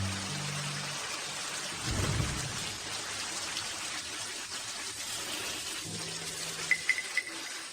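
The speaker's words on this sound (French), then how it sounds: "Il pleut comme ça" Steady heavy rain pours outdoors with a low rumble of thunder rolling through midway, the downpour hissing evenly throughout at moderate distance.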